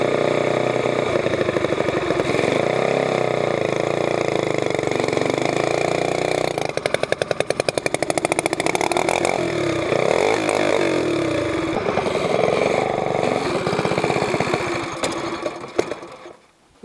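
A go-kart engine used as a mud motor, fitted with a Mikuni carburetor, runs continuously with a buzzing drone that wavers in pitch and briefly revs before dropping away at the end.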